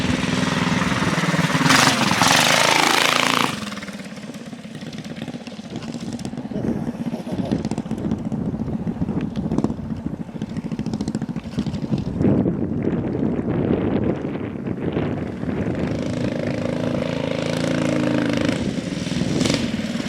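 A 420cc Rupp minibike engine with a torque converter roars loudly and steadily outdoors in a field while its tire spins, the revs shifting slightly with gusty wind noise throughout.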